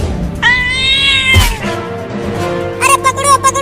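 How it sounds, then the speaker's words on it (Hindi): A cartoon cat meows in two drawn-out, harmonic cries as it makes off with a big milk-made ice cream, with a sharp thump between them and a steady background hum underneath. "वो बिल्ली मेरा बड़ा आइसक्रीम लेकर भागने लगी।"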